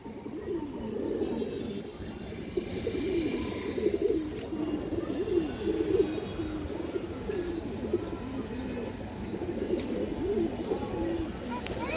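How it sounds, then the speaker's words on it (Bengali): Cooing of a large black male racing pigeon, a steady low rumbling coo repeating throughout at close range, with other birds faintly chirping in the background. "একটা কালীবাগা নর কবুতর পাল্লার জন্য খুবই ভালো হবে"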